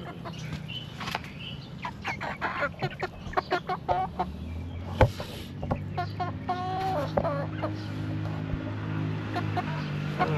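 Chickens cluck close by in a backyard, a steady run of short clucks and chirps with some wing rustling, while a voice speaks intermittently among them.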